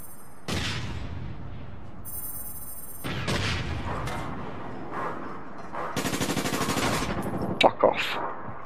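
Automatic gunfire from the online shooter APB Reloaded rattles in sustained bursts, loud and close, with a dense rapid-fire stretch near the end and game effects mixed in.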